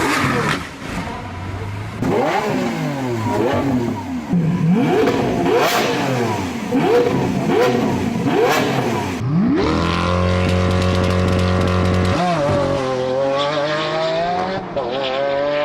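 A naturally aspirated 6.5-liter V12 producing 640 horsepower and 690 pound-feet of torque revs loudly and repeatedly, its pitch sweeping up and down in sharp bursts before settling into a sustained high-rpm howl, close and alone.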